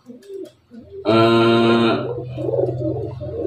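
A single pigeon gives a loud, throaty call lasting about a second, standing out over quieter background chatter and ambient noise.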